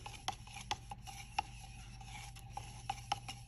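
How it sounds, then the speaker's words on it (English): A paintbrush scrapes and stirs glaze inside a bottle, giving faint, irregular clicks and taps over a quiet background hum. "you're going to take a paintbrush and you're going to scrape down and stir."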